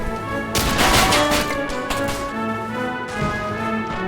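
Machine gun, mortar and grenade fire in a toy war video game come as bursts of loud crackling gunfire and blasts over a sustained tonal music bed, close and dense.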